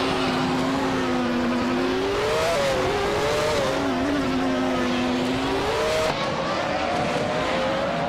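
A Williams FW18 race car in a racing video game, its engine whining at high revs in a loud, continuous drone with pitch rising and dipping through gear changes and corners.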